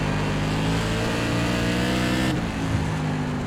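Modified race car engines roar continuously in the iRacing video game at South Boston Speedway, a loud dense drone of several cars running tightly together with a slight pitch dip toward the end.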